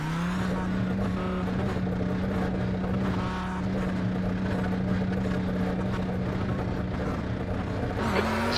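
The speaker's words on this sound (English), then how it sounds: "There's a car approaching." A race car approaching in the iRacing sim, a steady engine drone with a sustained tone that holds throughout, rising slightly near the end, heard continuously at moderate loudness.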